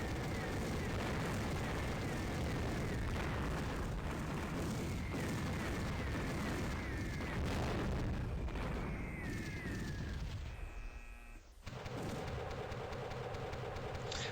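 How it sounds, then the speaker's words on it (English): Naval support ground-to-ground volley bombardment in a video game: dense, continuous rumbling explosions and booms fill the mix, with a brief drop near the end before the barrage resumes. "it's a naval support. It's a ground-to-ground volley."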